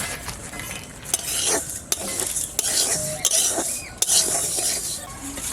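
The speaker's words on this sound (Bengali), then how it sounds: "মুগসাবলি পিঠা করার জন্য কড়াই গরম হয়ে গেছে, আমি ডালটা দিয়ে ভেজে নেব।" Mung dal dry-fries in a hot wok for mung shabli pitha, a continuous close sizzle and rustle of lentils being stirred, with sharp periodic scrapes and clinks of a spatula against the wok.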